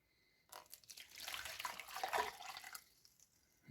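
Warm water pours into a bowl for garlic rustic bread dough, a close, quiet splashing stream that runs for about two and a half seconds, swells near the end, then stops.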